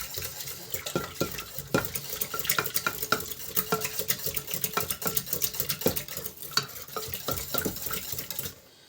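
Rapid, rhythmic whisking and scraping of pancake batter in a bowl, close and busy, with quick irregular strokes and light clatter, stopping abruptly at the end.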